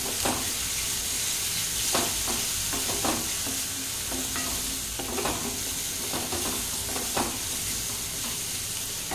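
Onion frying in a pan with garlic, ginger and chili paste gives a continuous loud sizzle, cut through by the scrape and clatter of a spoon being stirred at irregular intervals, with no talking.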